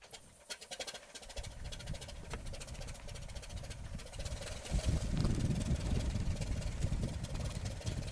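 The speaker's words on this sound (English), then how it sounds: "So we've got the engine started." A De Havilland Tiger Moth engine catches after a few cranking pops, then settles into a rough, throbbing idle that grows louder and steadier, close up.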